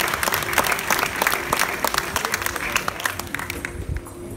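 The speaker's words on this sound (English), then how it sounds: "What about we start off right now with a nice big round of applause" Crowd at a tiger show on the Gold Coast breaking into a big round of applause, loud and continuous with a low hum beneath the clapping.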